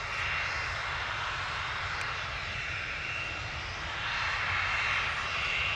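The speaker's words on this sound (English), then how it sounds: "Ryanair coming in from Cologne." A Ryanair airliner arriving from Cologne on approach to land at London Stansted Airport produces a steady, distant, rumbling engine roar. The roar swells slightly toward the end and continues throughout with no voices.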